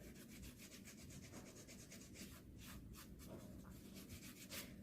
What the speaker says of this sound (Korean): 사포로 살짝만 갈아주세요.